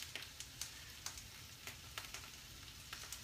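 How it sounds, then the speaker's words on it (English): Potatoes fry in butter in a pan with a soft, steady sizzle broken by scattered sharp pops and crackles, fairly faint and heard alone. "Now that's sizzling away"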